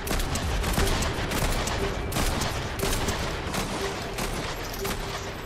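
Rapid bursts of video game gunfire from Fortnite rattle continuously in a busy firefight, loud and dense with overlapping shots and no talk over them.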